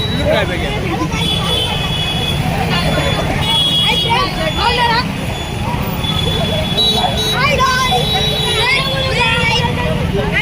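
Heavy road traffic in a town rumbles continuously, with buses and vehicles passing and occasional horns, under loud nearby speech and street chatter.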